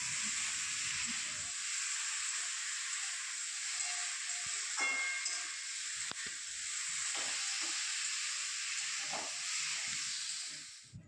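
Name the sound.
dal and vegetable curry cooking in pots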